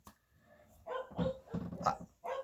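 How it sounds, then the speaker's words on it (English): Several dogs barking indoors in a run of loud, closely spaced barks and yelps that come in uneven bursts, with no one talking over them. "I apologize for the dogs."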